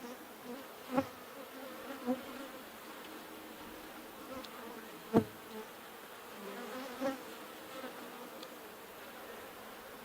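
Honey bees buzz in a steady, close hum as hive frames are inspected during colony splitting, with a few soft knocks from handling the wooden frames.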